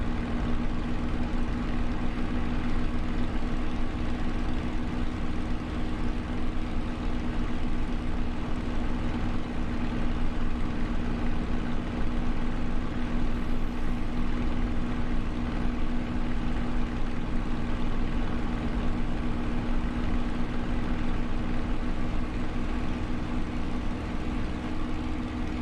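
A Spitfire's piston engine drones steadily in a flight simulator game, a loud, continuous low hum with a strong tonal component that stays constant throughout, with no voices over it.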